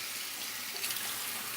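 Warm tap water runs steadily from a faucet before hair is washed, a continuous close hiss and splash with no break and no talking.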